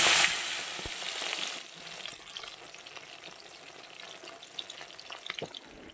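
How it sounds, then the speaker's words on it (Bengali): Tilapia fish frying in hot oil in a kadai: a loud sizzling burst at the start settles into a steady, softer crackle with scattered pops. "এবার মাছগুলো ভেজে নেব।"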